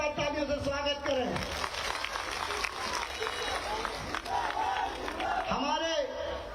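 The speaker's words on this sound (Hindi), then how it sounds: "मैं चाहूंगा कि आप सब मिलकर के उनकी जोरदार तालियों से स्वागत करें।" A crowd at a large Bharatiya Janata Party public rally in Rajnagar, Chhatarpur claps and applauds in a dense, continuous wash, with voices and shouts mixed in and a tonal sound rising and falling above it.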